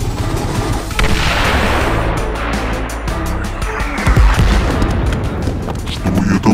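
A nuclear shell blasts in a tank cartoon, a loud booming explosion with a long rumbling roar that swells, then bursts and fades into crackling debris, with voices over the noise.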